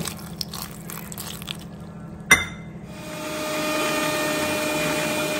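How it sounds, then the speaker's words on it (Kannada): A kitchen mixer grinder finely grinding a garlic and chilli masala with added water: quiet clatter and a sharp knock, then the motor starts and settles into a steady, fairly loud whirring drone. "ಈಗ ಇದಕ್ಕೆ ನೀರು ಹಾಕ್ಕೊಂಡು ನುಣ್ಣಗೆ ರುಬ್ಕೊಳ್ಳೋಣ."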